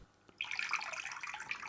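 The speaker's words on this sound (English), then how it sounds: "that perfectly replaces the white noise machine with a gentle trickle of water" Aquarium filter outflow raised above the surface, making a gentle, steady trickle of falling water that starts abruptly after a moment of near silence and continues softly and evenly.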